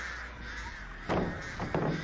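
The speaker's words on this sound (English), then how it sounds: "He hasn't started repelling his crows." Crows cawing in Dead by Daylight, two sharp harsh caws in quick succession near the end, rising out of a low steady game ambience.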